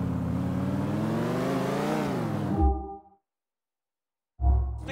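A car in Grand Theft Auto 4 accelerating, its engine note rising and revving for a few seconds before cutting out into silence, then starting up again briefly.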